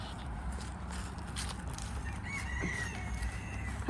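Chickens cluck and a rooster crows on a small hobby farm, the crow rising clearly midway through over a steady bed of farmyard noise and scattered bird calls.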